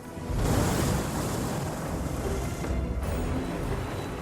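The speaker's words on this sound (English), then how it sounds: "The ship is most likely overwhelmed by a wave." Heavy sea waves surge and crash against a ship in a storm, a loud continuous roar of surf and wind with water rushing over, swelling early and staying dense throughout, no voices.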